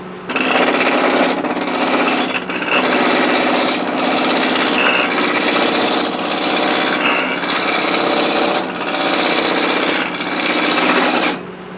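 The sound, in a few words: wood lathe turning a peppermill blank with spindle roughing gouge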